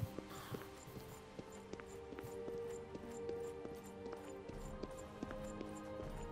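Horse hooves clip-clop on a road in the video game Oblivion, a steady rhythmic trot of close, moderately loud hoofbeats over a soft ambient music bed, with no talking.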